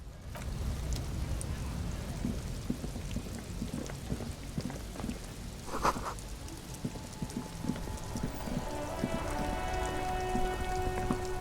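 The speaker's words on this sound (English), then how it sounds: "It's raining again." Steady rainfall in the video game Disco Elysium, a dense, even hiss of drops falling throughout, with a brief louder splash midway and faint tonal game sounds rising near the end.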